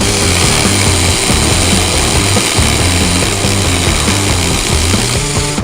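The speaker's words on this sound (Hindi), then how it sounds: "भाई साहब ड्रिल मशीन से लकड़ी कट गई पहली बार।" An electric drill fitted with a wood-cutting attachment runs steadily and loudly through wood, a continuous buzzing whine with rhythmic pulsing as the blade bites.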